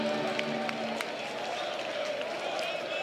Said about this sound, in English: Crowd excited there.